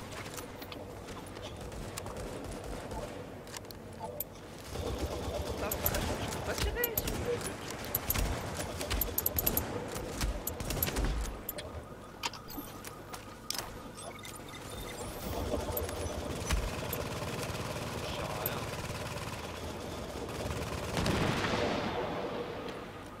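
Submachine gunfire in the video game The Division, rapid bursts crackling through a busy firefight with other shots and impacts, loud over background game noise.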